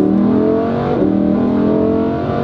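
A Lamborghini Huracan Performante LP640-4 with a Valvetronic exhaust drones loudly and close, its engine holding a rich, buzzing tone that dips slightly and recovers while revving.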